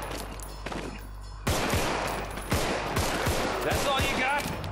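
Rapid gunfire from shooting zombies in the game Contagion, close and loud, with sharp repeated shots in quick bursts and voices faintly under the din.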